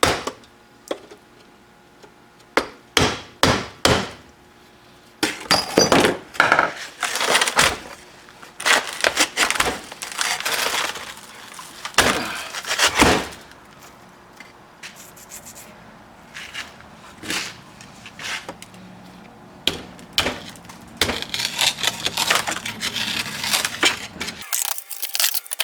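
Hardened foundry sand mold is knocked and broken away from a freshly poured cast iron valve body, giving sharp irregular cracks and crunching knocks in bursts with quiet gaps between them, close by and without speech.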